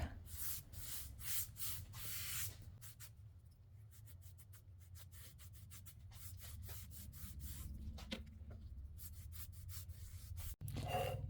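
Brush strokes of highly pigmented black chalk paint being applied across a dresser top, a steady soft rubbing and swishing that runs continuously, close and fairly quiet, with no voices.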